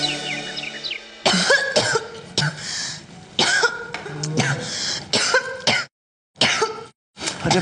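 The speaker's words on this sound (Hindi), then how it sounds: "अरे बंद करे खांसी की आवाज" A woman coughs repeatedly in a harsh, hacking series of close, loud bursts separated by short pauses, with some throat clearing and a voice heard briefly at the start.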